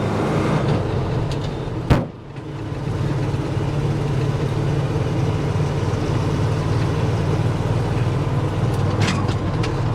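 Medium duty dump truck engine droning steadily while driving, a continuous mid-low hum from inside the cab with a brief sharp knock early on.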